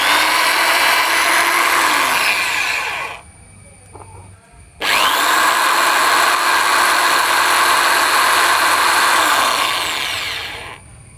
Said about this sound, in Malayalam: ഈ ഹോളി നമുക്ക് ഡ്രില്ല് ചെയ്യാനുള്ളതാണ്.